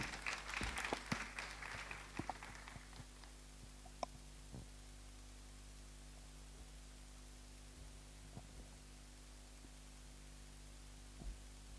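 Brief applause from a symposium audience for the next speaker, a short burst of clapping in the first few seconds that dies away to scattered claps over a steady hum.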